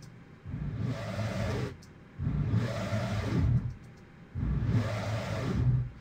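Three long, swelling synth tones with a thick, wobbly detuned chorus character, each lasting over a second and separated by short gaps, played alone.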